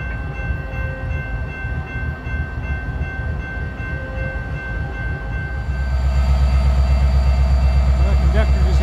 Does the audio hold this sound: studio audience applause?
no